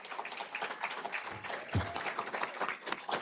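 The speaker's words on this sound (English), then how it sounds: "please stand and accept our applause and thanks" Scattered clapping from an audience at a college service day event, irregular and moderately close, with a brief low thump partway through and faint background murmur.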